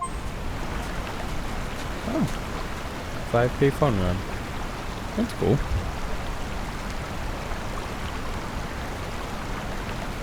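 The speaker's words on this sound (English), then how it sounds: "the water sounds amazing right here" Canyon stream water flowing in a steady, broadband wash that runs through the whole stretch, with a person speaking briefly over it midway.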